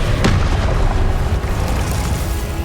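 The Glacius spell is cast in Hogwarts Legacy, giving a loud booming burst that settles into a dense, rushing rumble across the whole moment, with no voice over it.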